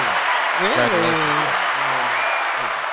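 An audience applauds at a Columbia recognition event, a steady wash of clapping running the whole time beneath a man's close, loud speaking voice.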